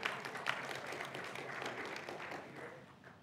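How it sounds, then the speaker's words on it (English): A church congregation applauds the camp cook in a soft, distant round of clapping that gradually tapers off. "You can give him a round of applause."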